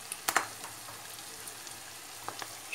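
Liver pan-roasting in a pan, faint steady sizzle with a few crisp pops and stirring clicks near the start and end, quiet and close with no talking.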